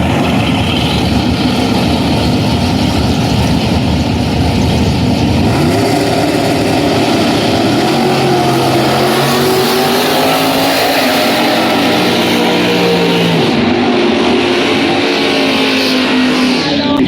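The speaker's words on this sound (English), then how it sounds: "the short wheelbase 1984" A 1984 Chevrolet Chevette drag car with a short wheelbase runs at Summit Motorsports Park, a loud engine roar that shifts midway into a rising, strained note, steady and close throughout, with no talking.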